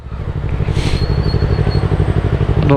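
A motorcycle fitted with headers exhaust rumbles loudly and up close with a throbbing, pulsing engine note while making a U-turn, the revs building slightly toward the end.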